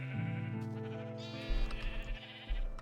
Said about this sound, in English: This is my current sheep farm.